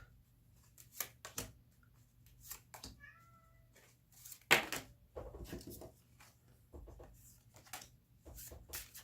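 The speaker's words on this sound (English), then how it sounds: "If you can hear my cat in the background" A cat meows several times in short calls, close by, among soft rustling and shuffling sounds in a quiet room.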